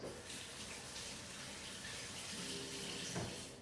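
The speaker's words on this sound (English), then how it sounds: "now what I'm going to do is I am going to rinse my hands" Hands rinsed under a running kitchen tap, a steady close water hiss with a brief louder splash near the end, no talking.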